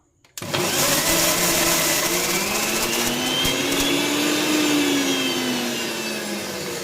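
A mixer grinder crushes three chopped eggs, its motor whirring loud and steady, close by and alone for several seconds after a brief quiet start.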